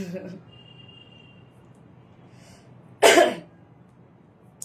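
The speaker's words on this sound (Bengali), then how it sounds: "লাইভে আসলে কাশি হয়।" A single sharp cough bursts out once during a Facebook live stream, loud and close, with quiet room tone and a little talk at the very start.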